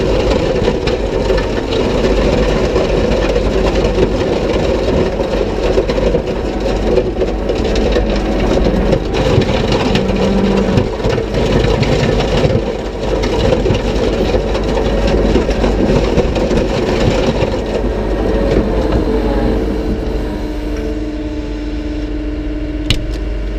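A 333G Smart Grade skid steer's diesel engine runs steadily while driving, a loud continuous rumble with clanking and rattling that eases slightly near the end.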